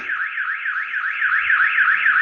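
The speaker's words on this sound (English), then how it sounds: "It makes me jump, that damn alarm." A car alarm wails in a steady, rapidly warbling electronic siren that rises and falls in quick repeated sweeps, loud and continuous throughout with no voices over it.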